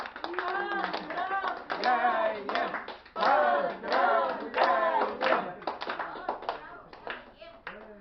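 Audience clapping for the anniversary honorees at a December 2021 society event in Yakutsk, a steady wash of applause lasting several seconds with voices mixed in throughout.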